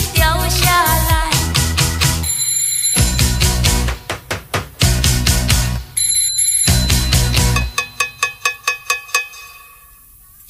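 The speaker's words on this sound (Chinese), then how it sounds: "我又按了电铃声" Repeated electric doorbell rings within a 1982 pop song: bright, rapid trilling bursts in rhythmic groups, loud against the band's backing, with no singing over them.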